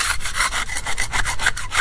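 Rhythmic scraping strokes as gunk is scraped off the backs of reclaimed marble floor tiles, about ten quick back-and-forth passes, close and fairly loud with a gritty rasping texture.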